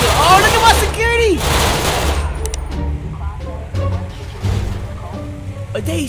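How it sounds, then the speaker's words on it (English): Security guards in the GTA 5 video game fire rapid bursts of gunfire, loud and dense at first, then thinning to scattered shots under excited speech and laughter. "Are they shooting like that?"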